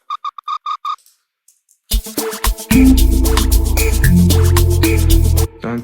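Short, plucky amapiano synth melody notes with the decay and release turned down, a quick run of clipped tones, then a loud, busier passage of layered synth and bass notes over a steady beat.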